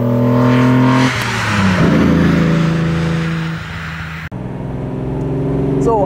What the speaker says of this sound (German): Also laufen tut der erste Klasse, er hat einen absoluten super Sound, der Wagen.